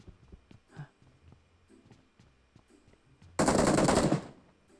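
Burst of automatic gunfire in PUBG Mobile, loud and sustained for about a second near the end, after quieter scattered clicks and soft background game noise.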